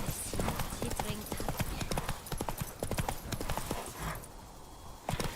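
Horse hooves clip-clop in a steady galloping rhythm in The Witcher 3 video game, continuous and fairly close, with a brief whinny-like accent and no talk.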